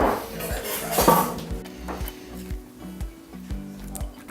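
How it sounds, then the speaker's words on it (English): Metal and wooden kitchen utensils clatter and clink while a spatula is pulled from among them during pear preserve making, several short knocks and rattles close by, no talking. "Let me get a spatula for that."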